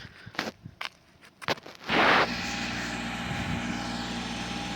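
A tractor with a homemade hitch pulls a cultivator along a row in a hazelnut orchard, its engine rising after a few scattered knocks and footsteps to a steady, fairly close drone that holds to the end.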